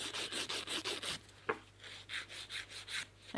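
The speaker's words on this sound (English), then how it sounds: "And then this nail's ready for filing" Rhythmic rasping strokes of a file across an acrylic nail on a short, bitten nail, steady back-and-forth scrubbing close up with a brief tap midway, no talking.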